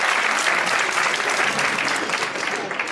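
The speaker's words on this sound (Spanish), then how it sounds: "Un aplauso para Carlos" Audience members at a magic gala in Leganés applaud a volunteer named Carlos, giving a loud, dense, continuous wash of clapping from a full room that eases slightly toward the end, with faint murmuring underneath.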